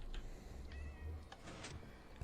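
A Persian cat in the video game Minecraft meows a few times, short separate calls close by, with a low background hum underneath.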